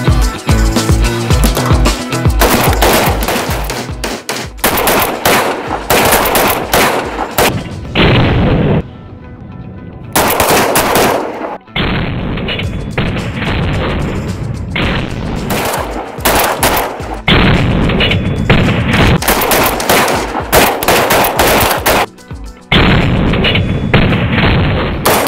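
Loud, rapid gunfire from shotgun slugs, buckshot and .45 hollow points strikes a 3-D action target, with sharp bursts and heavy booms repeating in clustered volleys and brief pauses between strings of shots.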